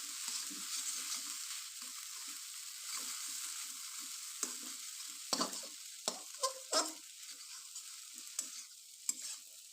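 Egg chow mein sizzles on a high flame while a spatula tosses it, soft frying hiss broken by scattered scrapes and louder clanks against the pan in the second half, with no talking.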